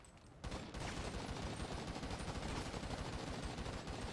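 Rapid sniper rifle gunfire in GTA 5 Online, a dense, loud barrage of overlapping shots and game noise running continuously after a brief quiet start.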